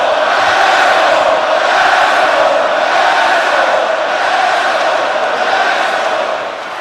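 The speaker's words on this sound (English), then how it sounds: "listen to the crowd, folks." A large arena crowd at a pro wrestling show roars and cheers continuously, loud and dense, fading slightly at the very end.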